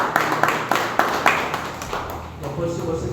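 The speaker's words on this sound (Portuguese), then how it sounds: "Aplauda o Senhor nesse momento" A church congregation claps in a quick, steady rhythm for a little over a second, and then the claps fade as a voice talks on over the room.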